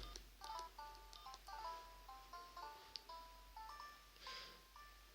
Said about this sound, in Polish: Posłuchamy sobie teraz dźwięków oryginalnych tego telefonu.